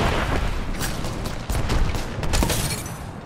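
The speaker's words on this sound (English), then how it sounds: "So many nades." Dense, continuous blasts of grenade explosions and gunfire from an Apex Legends firefight, with several heavy booms around the middle and later stretch layered over constant broadband battle noise, loud and close.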